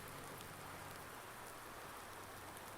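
Steady rain falling in Farming Simulator 19, a continuous soft hiss of drops on surfaces, even and unbroken with no voices.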